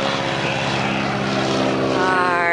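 A propeller airplane passing close overhead at a vehicle celebration, producing a loud, continuous engine drone with a harmonic whine that rises in pitch toward the end.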